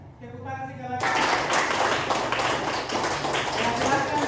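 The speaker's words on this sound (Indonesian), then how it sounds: "Tepuk tangan sekali lagi" Students clapping in a classroom, a burst of dense applause that starts sharply after a brief voice and keeps going at an even level.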